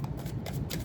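A tarot card is laid down on a table during a reading, giving a short papery slide and soft tap that is heard close up over a steady low background hum, with no talk.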